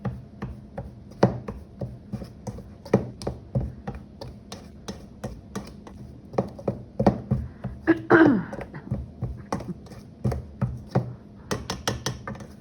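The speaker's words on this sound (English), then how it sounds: "I'm going to run my knife across it." A knife chops through clumps of biscuit dough into small pieces in a quick, uneven run of close taps and thuds on a board, steady for about twelve seconds with a brief scrape midway.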